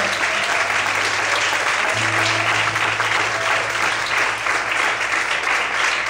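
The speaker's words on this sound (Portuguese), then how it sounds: "Você pode aplaudir o Senhor?" A church congregation applauding during a sermon, a steady, dense wash of clapping that stays even and loud throughout, with a low hum running underneath.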